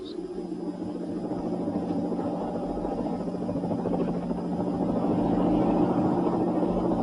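A helicopter flies over power cables on a winter day, its steady low engine and rotor drone rising gradually in loudness as it draws nearer, continuous with no other sounds.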